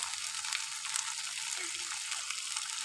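River fish curry with eggplant, potato and turmeric sizzling in a frying pan as it is stirred, a faint, continuous hiss with light scraping, and no voices.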